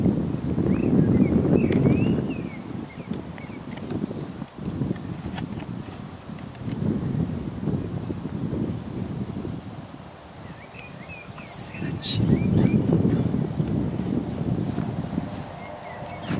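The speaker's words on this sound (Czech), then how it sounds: "A to je tím větrem." Gusts of wind buffet the microphone in heavy rumbling waves, swelling and easing over a faint background, outdoors during a Trex 450 PRO helicopter flight.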